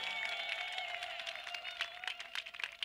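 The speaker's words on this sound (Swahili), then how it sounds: "Pigie Bwana makofi kwa ajili ya hayo." A church congregation at a gospel meeting in Dzaleka, Malawi claps for the Lord, a steady patter of many hands under a sustained musical tone from sound equipment, moderately distant and continuous.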